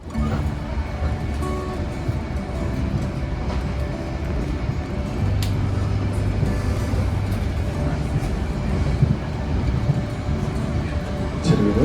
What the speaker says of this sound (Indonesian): kereta api Argo Wilis ini sebentar lagi akan melintasi terowongan ijo